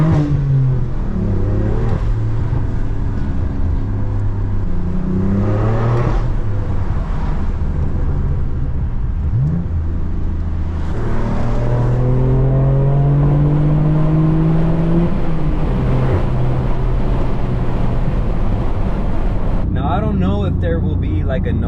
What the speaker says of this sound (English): I don't think they will appreciate the sound of this car as much as I do.